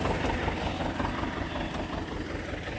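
A T-25 tractor engine runs while mowing hay in a field, a loud, steady droning rumble with no talk over it.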